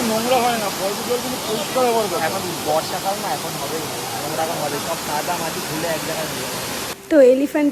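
Elephant Falls in Meghalaya keeps up a constant broad rushing wash of water in the background, while voices talk over it almost throughout.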